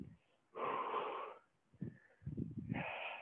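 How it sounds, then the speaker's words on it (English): Deep breaths during a workout warm-up, sounding as loud, close inhales and exhales with a wheezy, airy rasp, separated by short pauses. "Focus on breathing right now, breathing in."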